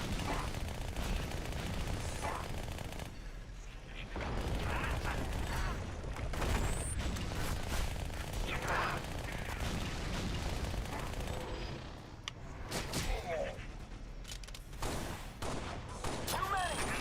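Pistol fire in a Halo game, repeated shots popping within a busy, loud battle mix of mechanical clatter and explosions, steady and close throughout with scattered brief pauses.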